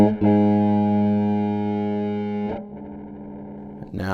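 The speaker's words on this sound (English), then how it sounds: "this is the Zoia going into the OC5, then adding its own grit" Guitar played through a Zoia patch into a Boss OC5 octave pedal, giving gritty distorted tones: one long sustained chord rings and slowly decays, then a quieter note follows before a new attack at the end.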